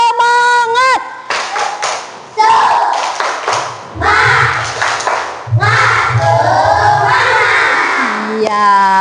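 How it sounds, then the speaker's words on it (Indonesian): Children in a classroom perform a 'tepuk semangat' cheer, rhythmic group clapping in bursts mixed with loud chanting and shouting voices, close and energetic throughout. "Tepuk semangat"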